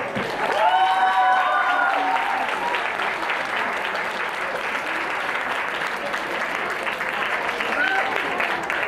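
An audience claps and cheers in an applause contest run by an emcee, a dense, sustained roar of hands with whoops near the start, steady and loud until a voice cuts in at the end.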